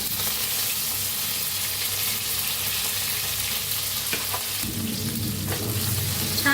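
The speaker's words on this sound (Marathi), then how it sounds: "टमाटर टाकूया कापून घेतलंय बारीक टाकते बघा" Finely chopped tomatoes hit a hot pan of oil with mustard seeds and garlic, a loud, dense sizzle that runs throughout, with a few sharp scrapes and a brief surge as the pieces land.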